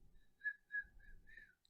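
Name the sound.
woman whistling a song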